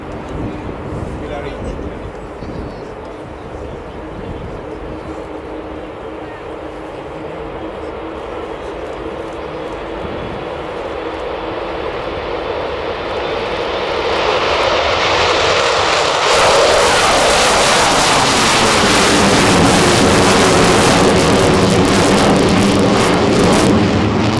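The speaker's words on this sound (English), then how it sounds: "Listen out for the extraordinary sound of the howl of the Bristol Olympus engines." The Bristol Olympus jet engines of the Avro Vulcan XH558 build to a loud, sustained howl and roar as it powers up for takeoff at RIAT 2009, swelling steadily over a continuous rumble.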